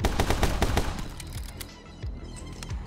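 Rapid bursts of gunfire from the action shooter game My Friend Pedro, a dense volley of shots in the opening second that thins into scattered, fainter pops, with no talk over it.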